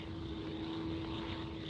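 A propeller-driven airplane drones overhead in a 1952 war film, a steady loud engine hum with a constant tonal whine and no voices.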